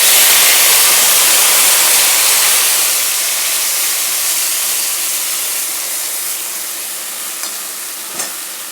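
Spices hit hot oil in a pan, a loud, broad hissing sizzle that gradually settles and softens over several seconds, with a small clink near the end.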